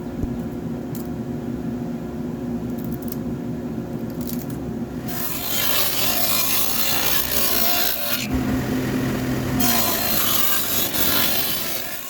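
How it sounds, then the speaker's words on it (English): A table saw fitted with a dado stack cuts plywood, a steady motor hum giving way to two loud, rough cutting passes with a brief dip between them, close and with no talk. "all these pieces were small enough that I could handle on my table saw, so I just threw the dado stack in"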